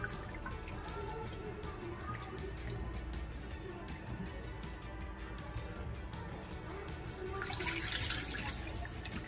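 Tap water runs into a pot while rice is rinsed in a kitchen, a faint steady trickle and splash with small clinks, growing a little stronger near the end.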